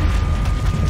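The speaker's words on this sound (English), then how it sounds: "But there's one final blast." A burning chemical plant lets out its last explosion as a loud, deep rumbling roar that fills the whole short moment, heavy in the low end and steady throughout.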